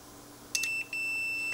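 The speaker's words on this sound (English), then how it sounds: "We get the click and we get our beep." Relay on a replacement control board for a burnt Frigidaire oven clicks as bake is selected, followed by the board's short electronic beep and a lingering thin tone, quiet and close with no talking.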